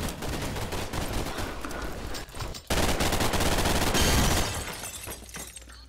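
Rapid loud gunfire in the multiplayer shooter Double Action Boogaloo, dense crackling shots with shattering impacts, a brief break midway, then another heavy burst trailing off.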